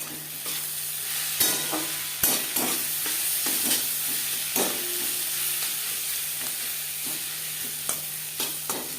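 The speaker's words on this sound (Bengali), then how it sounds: "লবণ হলুদ পেঁয়াজের সাথে বেশ ভালো করে মিক্স করে দেবো" Onions fry in a pan with salt and turmeric and are stirred, a steady sizzle broken by occasional scraping clacks of the spoon.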